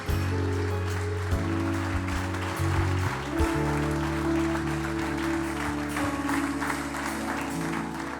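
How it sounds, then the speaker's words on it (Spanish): Loud, steady applause from a church congregation during a Spanish-language service, continuous for several seconds, layered over sustained low organ or keyboard chords and music. "Te damos gracias, mi Dios, con este fuerte aplauso a ti"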